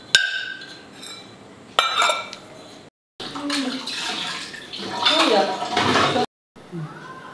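Cooking vessels being washed and cleared in a home kitchen after making dal, with metal pots clattering and clinking alongside running water in bursts broken by short silences, under a speaking voice.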